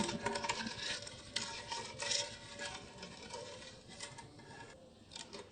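Sugar syrup for rasgolla is stirred in a pot on the stove, with a faint, close scraping and soft patter of a spoon moving through the liquid in uneven strokes and no voices.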